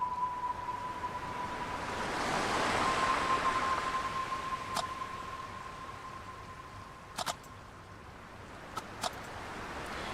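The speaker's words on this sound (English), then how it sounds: "The sound of the waves has a unique quality to it." Broad ocean waves wash in a steady, swelling surge that peaks midway and eases off, with a thin sustained tone running underneath and a few sharp clicks near the end; no voices.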